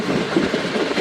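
The Shalimar Express running on rails at dusk, a dense, loud, continuous rumble and rattle heard from on board.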